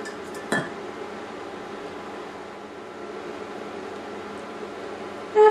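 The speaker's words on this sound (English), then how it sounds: "Cover saucepan with lid." A metal lid set onto a saucepan of simmering coconut rice pudding gives a brief clink near the start, then a soft low hiss, with a second louder clink at the very end.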